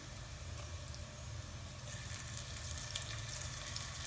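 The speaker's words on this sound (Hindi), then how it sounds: "मु एथिरे अदा रसुण पेस्ट को ऐड करूछी।" Ginger garlic paste hits a pan of golden-brown onions and sizzles in a steady, even hiss that holds without a break, close and moderately quiet, with no voices.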